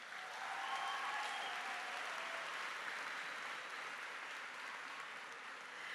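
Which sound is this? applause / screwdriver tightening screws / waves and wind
applause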